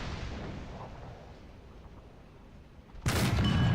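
A Tiger H1 tank's cannon fires in War Thunder, one sudden loud boom that breaks out of a low rumbling battle ambience near the end and rings on.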